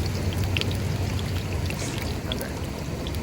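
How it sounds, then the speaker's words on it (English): Heavy rain pours onto a van roof, a dense, steady hiss with a low rumble and scattered sharper drops close by. "It's raining so bad, you guys."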